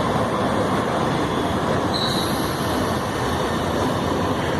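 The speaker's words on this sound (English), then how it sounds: "So here comes our train." A London Underground Northern Line tube train arrives with a loud, continuous rumbling roar, and a brief high wheel squeal cuts in midway with no talking.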